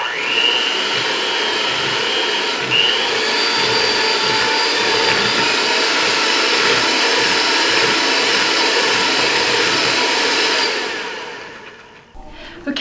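Electric mixer running on low speed, mixing molasses, shortening and sugar for gingerbread: a steady, loud whirring motor hum lasting about ten seconds before winding down.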